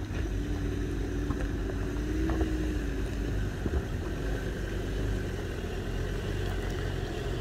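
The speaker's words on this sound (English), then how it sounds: "This one has got the 3-litre D4D bulletproof diesel engine, manual gearbox with low range." Toyota Fortuner 4x4 with a manual gearbox and 3-litre D4D diesel, climbing a mountain pass in Lesotho. It gives a steady low engine drone with road and wind rumble, continuous and fairly close, with no talk.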